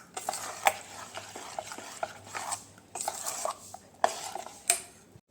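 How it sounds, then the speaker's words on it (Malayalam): Unniyappam batter of banana, jaggery and rice flour stirred in a bowl, with a spoon scraping and clinking against the sides in irregular close strokes and a few sharper knocks, no talking. "പഴവും ശർക്കരയും നമ്മുടെ അരിമാവും എല്ലാം ചേർന്ന് നല്ലതായിട്ട് മിക്സ് ചെയ്യണം"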